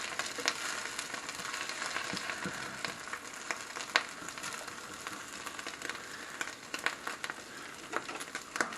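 Eggs frying hard in a pan crackle and sizzle steadily, with scattered sharp pops over a constant hiss at a moderate, close level.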